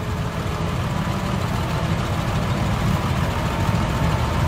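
A 190-horsepower tractor engine in the game Farming Simulator 15, running as a steady, unbroken low drone with a rough, rumbling texture and no voices over it.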